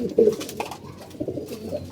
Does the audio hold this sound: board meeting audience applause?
no